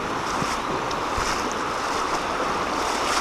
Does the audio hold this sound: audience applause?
no